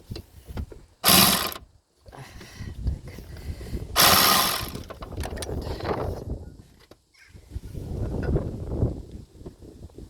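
A ratchet with a deep socket working on a 2012 Volkswagen Golf alternator, sharp bursts of rapid clicking in separate strokes between quieter stretches of fumbling and handling.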